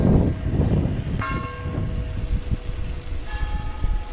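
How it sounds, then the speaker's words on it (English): Church bells ring out in a Polish village, two clear metallic strikes with long ringing tails, heard some distance away over a loud outdoor rumble of wind or traffic. "Now they're ringing their bells."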